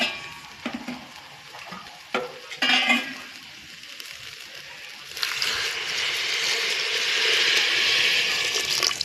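Dal khichdi is stirred in a pot with a few scraping spoon strokes and soft clinks early on, then a steady sizzling, bubbling hiss takes over for the rest.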